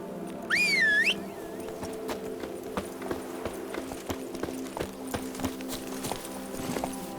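Roach the horse's hooves clip-clop in The Witcher 3, a steady walking rhythm of crisp hoof strikes close by, with a brief whistle near the start.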